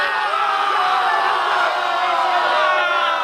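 A huge stadium crowd at GBK roars and cheers after Indonesia beat China in football, a loud, continuous wash of voices with whoops rising over the din.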